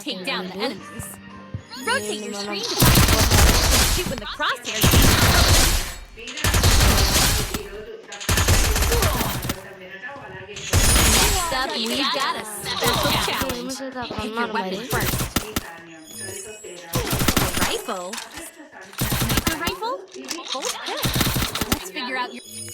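Repeated gunfire from an M82B sniper rifle in a shooting video game, heavy bursts of shots recurring through the clip under loud game audio, with a voice talking over it.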